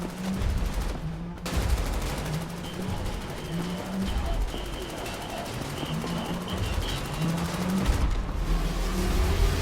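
Enemy machine gun fire in a World War II-style shooter game against Nazi forces, a dense continuous rattle of shots with booming low thuds throughout, loud and steady with brief gaps.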